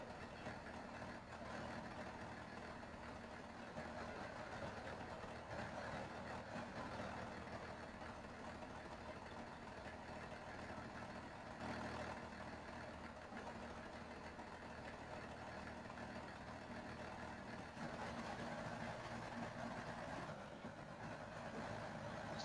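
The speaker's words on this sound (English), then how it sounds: "Plus, it's got that cool Cummins engine sound." A Cummins-engined truck idles in the SnowRunner video game, a steady, continuous low engine rumble that holds throughout without any talk.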